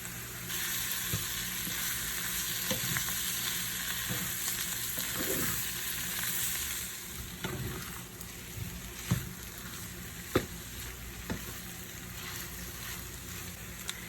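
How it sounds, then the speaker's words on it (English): Chopped potato cooking in a pan with peas, onion, cashew and spices for samosa filling, giving a steady broadband sizzle with a few sharp clinks and stirring scrapes, louder in the first half and then settling. "Now I'm going to add our chopped potato and cook for 3-4 minutes."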